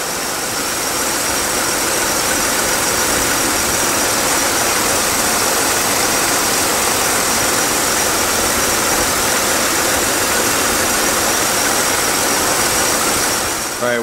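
A car engine with ignition voltage leaks idles loudly and steadily, a constant rough roar with no change in pace, heard up close and alone throughout.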